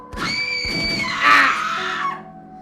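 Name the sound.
screams in a horror video game (The Letter)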